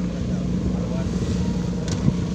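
Many motorcycles gathered at a roadside motorbike stop in Marquez, Infanta, Quezon, rumbling and idling steadily nearby, with a brief sharper burst near the end.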